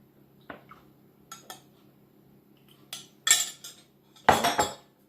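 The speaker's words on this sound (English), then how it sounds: "I've got my jug and I'm going to add 4 dessert spoons of milk" Metal spoon clinking against a jug and mixing bowl while spooning milk into a stiff fruit loaf mixture, a few scattered short clinks with louder clattering bursts near the end, close and otherwise quiet.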